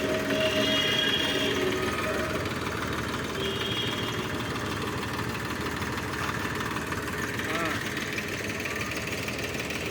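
A tractor engine idles during the unloading of ten tractors from a delivery truck, a steady low rumble with broadband noise running throughout.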